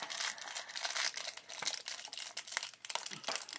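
Plastic packaging for Minecraft mini figures is ripped open by hand, giving close, continuous crinkling and tearing of thin plastic for a few seconds with no talk.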